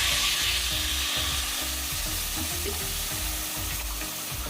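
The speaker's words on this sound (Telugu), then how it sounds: "ఇప్పుడు 3 గ్లాసుల వరకు వాటర్ వేసుకుంటున్నాను అనమాట" Water poured from a glass onto rice in a pot for cabbage and coconut rice gives a steady, close, rushing splash with faint bubbling underneath, no one speaking.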